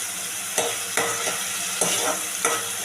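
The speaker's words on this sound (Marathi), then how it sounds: "टमॅटो तेलामध्ये चांगला परतून घ्यायचा आहे चांगला शिजवून घ्यायचा आहे" Tomatoes sauté in oil for a pomfret fish curry: a continuous hiss of frying broken by about half a dozen scraping stirs of a spoon against the pan, close up and without speech.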